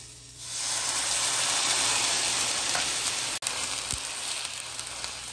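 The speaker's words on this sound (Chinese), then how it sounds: "香菇、胡萝卜丝、鸡芹切碎，好，把它炒一炒，利用这个鱼油很香啊" Chopped shiitake, shredded carrot and celery stir-fry in fish oil in a wok, giving a loud, steady sizzling hiss close up, with a brief clack of a utensil partway through and no voices.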